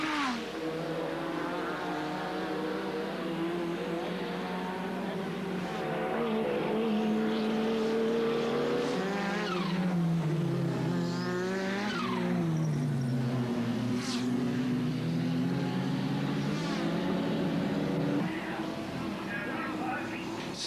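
Touring race cars at the 1990 Sandown 500 howl past in a sustained engine roar, with rising and falling revs and pitch sweeps from passing cars, heard at a distance beneath a commentator's voice.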